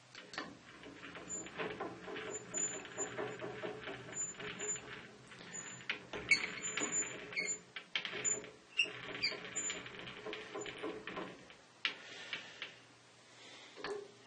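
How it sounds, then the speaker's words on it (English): Harrison M300 lathe running with its lead screw rubbing and clattering against the casting, an irregular ticking rattle that persists close by throughout. "you can hear that clattering. This is actually caused by the top of the lead screw rubbing on"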